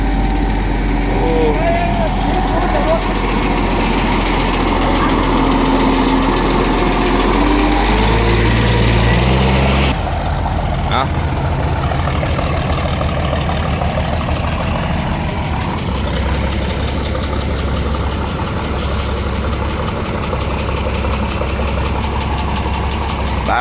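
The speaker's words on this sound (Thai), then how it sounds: "บิ้งคาบิดมอไซค์เราครับเบิ้งเบิ้งเบ้" A big motorcycle engine runs loud and close with rough, rising and falling revs throughout, a steady mechanical drone with a shift in pitch midway.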